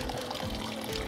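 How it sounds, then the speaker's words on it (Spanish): Water poured into a container being set up as an axolotl tank, a short, steady, close pouring splash. "Ahora cuando se empiece a llenar el recipiente de agua"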